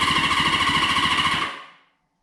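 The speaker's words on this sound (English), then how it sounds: "that should turn our engine over" A rusty Honda CB550 motorcycle engine is turned over by the starter, giving a fast, even mechanical pulsing for about a second and a half before it cuts off and the sound fades away.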